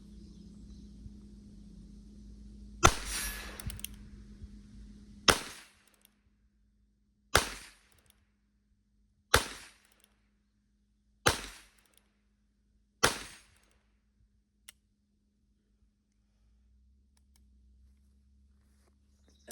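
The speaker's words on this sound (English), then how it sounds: "Nothing like shooting some old cans with a 22" Six sharp shots from a Heritage Rough Rider .22LR revolver ring out one by one, about two seconds apart, outdoors at cans and steel, each crack followed by a short decay and then quiet.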